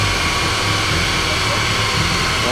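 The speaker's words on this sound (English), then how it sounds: "Got my dad's car on the dyno." A VW Mk2 with a 1.8T engine on ethanol runs on a dyno. It gives a loud, steady, broadband drone with a low hum throughout and no clear changes in revs.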